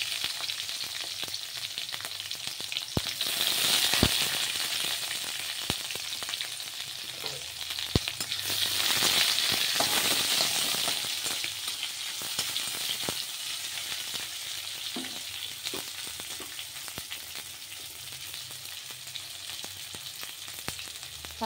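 Dried red chilli, whole cumin, a bay leaf and chopped raw onion frying in hot oil in a pan, a steady close sizzle with occasional stirring clicks and scrapes.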